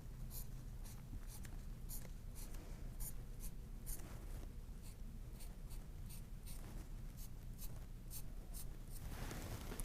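A pencil marks lines on a carving block for block printing, producing close, faint, rhythmic scratching strokes repeated over about ten seconds against a low steady background hum.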